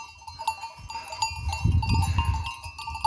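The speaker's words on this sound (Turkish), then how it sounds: "yağışlı olduğunda koyunlar başlıyor koşmaya" Sheep bleat close by in rainy weather with a bell clanking, and hooves scuffle across the ground as the flock runs.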